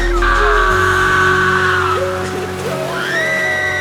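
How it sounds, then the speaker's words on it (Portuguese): Dramatized scene of people screaming for help during a catastrophic flood, with high strained voices rising and wavering over a low rumbling backdrop, loud and close throughout. "Gritavam por socorro."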